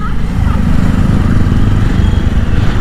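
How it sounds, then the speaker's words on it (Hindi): Motorcycles arriving at Gangrel Dam: a loud, steady engine drone with low rumbling close by, filling the whole stretch without pause. "यहाँ पे बाइक से लोग आ रहे हैं"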